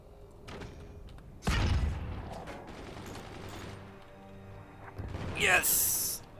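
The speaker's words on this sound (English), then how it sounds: "That is a cannon." Cannon fire in the Forts physics siege game: broadband booming blasts, a heavy one early and a sharper burst near the end, with talk over much of the clip.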